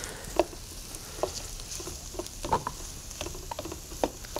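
Tomatoes cooking down in olive oil in a pan, giving a low, steady sizzle broken by scattered soft pops and clicks of stirring, fairly quiet and without talk.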